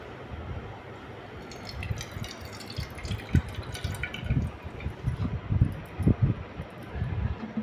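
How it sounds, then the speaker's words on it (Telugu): Sago pearls being rinsed with water in a bowl, with soft splashing, swishing and dripping that rise into a cluster of louder sloshes partway through, close and steady with no talk. "వేసుకున్న సగ్గుబియ్యాన్ని ఇప్పుడు వాటర్తో వాష్ చేసుకుందాం"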